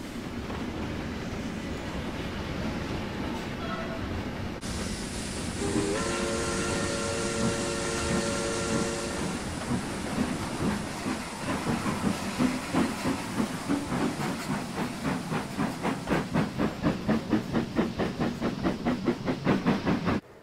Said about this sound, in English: it departed as a 3879 powered mixed freight pulled through